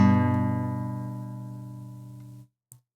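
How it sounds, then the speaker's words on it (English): Two notes played together on an acoustic guitar sound at once and ring alone, decaying slowly over more than two seconds before being damped, followed by a tiny click. "If I played 2 notes together, it would sound like this."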